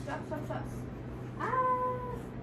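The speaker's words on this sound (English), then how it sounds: "Watch my cat." A pet cat meows indoors, a short drawn-out call rising in the middle of the clip over a steady low household hum, with a nearby voice faintly present beforehand.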